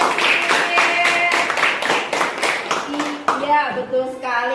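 A classroom applauding a student named Cecil, brisk scattered clapping from a group with voices talking over it throughout.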